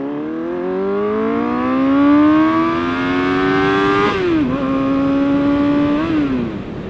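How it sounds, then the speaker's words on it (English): A 2006 Suzuki Katana 750 motorcycle with a new Delkevic exhaust revs at about half throttle, climbing steadily over several seconds, dropping sharply, then blipping once more before easing back. The engine note is loud and close, with no talk. "that was like half throttle, and it sounds pretty fucking decent, especially for the fucking price"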